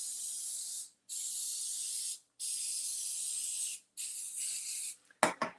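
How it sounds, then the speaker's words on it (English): Publix cooking spray hisses into a baking pan in four long, steady bursts separated by short pauses, close and fairly loud, ending with a quick clatter. "I just have some Publix cooking spray just so it comes up really easy."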